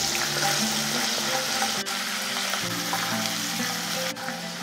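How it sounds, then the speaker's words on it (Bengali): Ginger paste fries in hot oil in a pan with salt, a steady close sizzle and crackle running throughout, with a couple of faint clicks of a stirring utensil and no voices. "আদাটাকে আমি 30 সেকেন্ডের মতন ভেজে নিয়েছি।"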